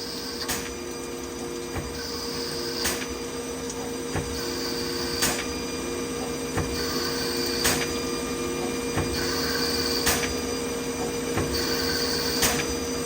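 A CNC lathe threads a rifle barrel at 1,000 RPM, a steady mechanical drone with a regular pattern of sharp clicks and tonal swells repeating about every two seconds across the passes.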